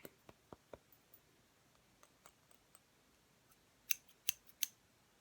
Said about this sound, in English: I have my scissors here.